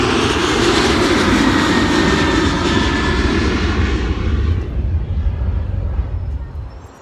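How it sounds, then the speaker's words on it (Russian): A loud airplane roars overhead while taking off from an airport beside a road in Argentina, the engine rumble swelling then gradually fading into the distance. "Дорога идет вдоль аэропорта, постоянно взлетают самолеты."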